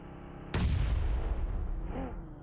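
Grenade explosion in a PUBG Mobile match, a single sharp, heavy blast followed by a long rumbling decay, moderately loud, with faint game ambience around it.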